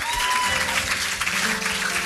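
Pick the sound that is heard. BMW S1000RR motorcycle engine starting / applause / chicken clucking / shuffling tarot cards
applause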